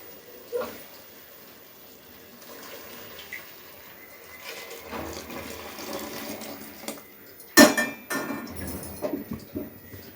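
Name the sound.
hot water being poured into pot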